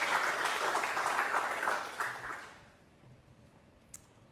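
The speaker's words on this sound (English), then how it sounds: "if you could all give her a round of applause" Audience applause at an evening community meeting, a dense wash of clapping that fades out after a couple of seconds into quiet room tone, with one faint tap near the end.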